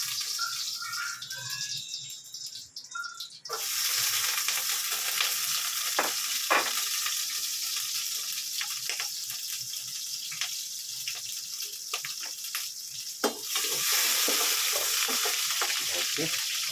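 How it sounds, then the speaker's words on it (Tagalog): Garlic sautéing in a hot frying pan for a chicken tinola dish. After a short quiet start, a loud, steady sizzle sets in and continues without a break, with faint clinks of stirring. "Igigisa na natin ito."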